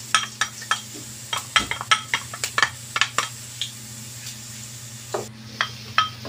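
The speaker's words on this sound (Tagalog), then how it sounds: "Isaute mo lang yung garlic." Garlic sautéing in cooking oil in a pan for a pechay dish, heard as a steady low sizzle under a run of sharp, close scraping and clinking stirs from a utensil against the pan.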